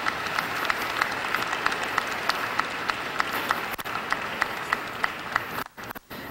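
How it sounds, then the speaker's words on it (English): Banquet guests applaud the dais guests at an NAACP Freedom Fund dinner, a steady room-wide clatter of hands with distinct sharp claps close by, fading and breaking off near the end. "Please give a round of applause for all of our dais guests."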